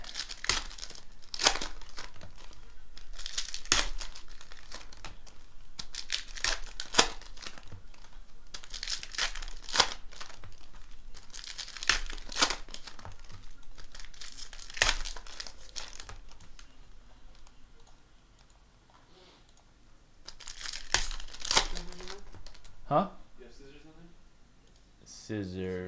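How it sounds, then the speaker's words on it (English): Trading card pack wrappers from an NBA basketball card box break are opened with scissors and handled, giving repeated crinkling and snipping bursts at close range while a person talks in between. "Scissors."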